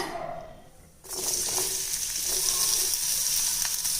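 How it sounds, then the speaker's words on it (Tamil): Onions hit hot oil and burst into a loud, steady sizzle that keeps crackling close up, with no one speaking. "வெங்காயம் வதக்கிறதுக்கு கொஞ்சமாக எண்ணெய் விட்டுக்கலாங்க"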